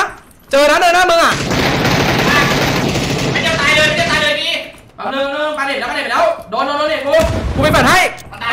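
Gunfire in the battle royale game PUBG during a team scrim: loud, dense bursts of automatic shots and ringing reports nearly filling the stretch, with brief gaps, while players talk over it.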